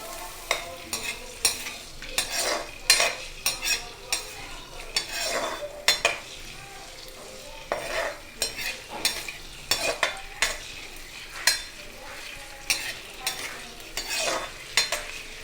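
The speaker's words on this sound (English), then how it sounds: "So oil will be warm and I will fry these potatoes, fingers shaped potatoes." Finger-shaped potatoes frying in hot oil, a busy crackling sizzle with frequent spatula scrapes and metal clinks against the pan in an uneven, repeated rhythm.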